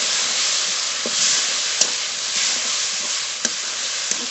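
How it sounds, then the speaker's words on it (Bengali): A masala of ground coriander and cumin, dried and green chili paste, chopped tomato, salt and turmeric sizzles hard in a pan, a close, steady frying hiss broken by a few sharp stirring clicks. "এবার ভালো করে মশলা কষিয়ে নেবো"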